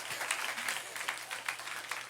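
Church congregation clapping during a sermon, a rapid patter of many hands that is moderately loud and fairly even throughout, with a voice faintly present underneath.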